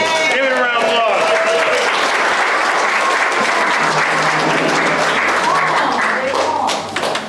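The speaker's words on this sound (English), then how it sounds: "Give it a round of applause." A room full of people claps steadily at an awards presentation during a shelter workshop pancake breakfast, with voices and cheers mixed in before the applause tapers off near the end.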